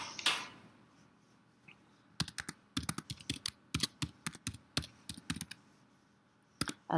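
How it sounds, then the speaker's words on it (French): An email address is typed on a computer keyboard as a string of crisp, separate key taps, close and distinct, following a quiet opening with one soft knock. "on vous demande de taper votre adresse de messagerie professionnelle"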